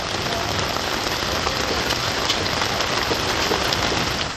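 Heavy rain pours down in a dense, constant roar of drops hammering surfaces, loud and unbroken throughout, during a downpour in Tamil Nadu, India.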